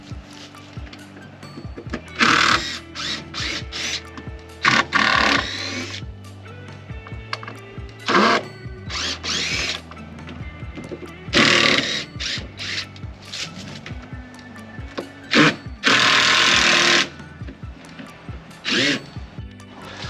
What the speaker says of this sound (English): So I'm gonna get busy unscrewing this and screwing it to that.